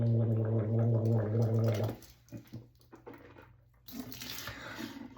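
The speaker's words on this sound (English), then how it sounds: "I like to gargle." Gargling with salt water after rinsing the sinuses with a neti pot: a loud, close bubbling gargle runs for about two seconds, then stops, followed by quieter wet throat and mouth noises and a brief splash of water.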